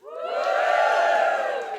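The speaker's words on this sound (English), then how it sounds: "Just give us a cheer if you know what the Guilty Feminist is." A live podcast audience at Camden School for Girls cheers and whoops together in a loud, sustained burst that swells quickly and holds for under two seconds.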